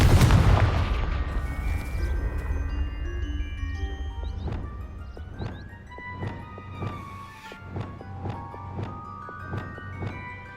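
The Confringo fire spell exploding in Hogwarts Legacy, a heavy booming blast that decays into a rumbling tail, followed by a series of light chiming, crackling magical pops.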